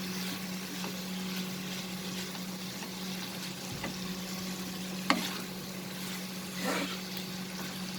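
Bitter gourd and shrimp sauté with spices over a medium flame, giving a faint steady sizzle with a low hum and a couple of soft stirring knocks, no talking.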